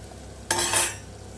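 A spoon scrapes and stirs turmeric into masala in a pan, one sudden brisk stroke that fades after about half a second over a quiet background.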